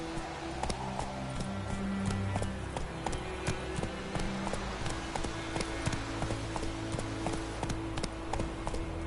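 A horse galloping in The Witcher III, rapid rhythmic hoof clip-clops that stay close and steady over a low background bed.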